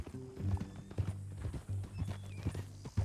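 Steady clip-clop of horse hooves walking at an even pace in Red Dead Redemption 2, close by, with a faint whinny and low ambient tones behind.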